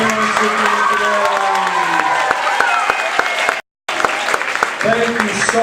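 Audience at a school jazz event breaks into a sustained round of clapping with some cheering, dense and steady, with a voice speaking over it and a brief cut near the middle.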